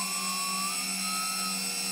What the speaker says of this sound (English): But now, I give it a little throttle. And notice the engines.